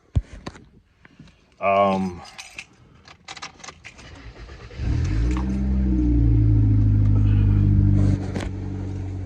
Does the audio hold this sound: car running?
yes